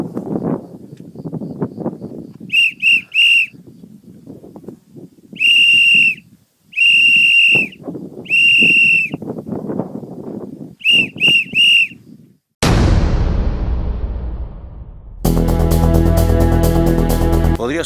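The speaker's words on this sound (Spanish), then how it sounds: "la manera correcta de pedir ayuda usando un silbato" Loud shrill survival whistle blasts in groups of three, a distress signal, sharp and close, separated by pauses with low rumbling in between; a louder mechanical noise follows at the end.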